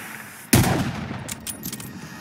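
Gunfire in a war battle erupts suddenly as one loud close blast, followed by a ragged trail of further rapid shots and echoing reports.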